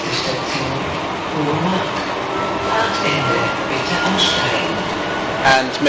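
A U-Bahn train runs along the line to Oberursel-Hohemark, a steady, loud rumble of wheels and carriage noise throughout, with faint rattles and clicks on top.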